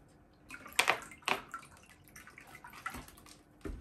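Pre-warmed water splashes and pours while a Römertopf clay pot lid is cleaned, with two sharp close splashes early on and softer trickles and drips afterward.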